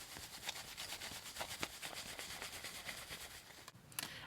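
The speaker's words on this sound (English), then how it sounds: "I wipe it off." A rag wiping hand sanitizer off a surface, giving a soft rhythmic rubbing that repeats in quick strokes for a few seconds, close and fairly quiet.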